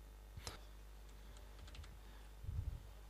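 A few faint, sparse keystrokes on a computer keyboard, typed while entering text in ArchiCAD, with quiet gaps between the clicks.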